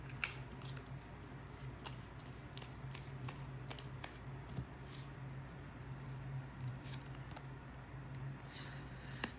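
Tarot cards being shuffled produce a soft, steady stream of riffling and flicking taps that runs close and fairly quiet throughout, with no voices.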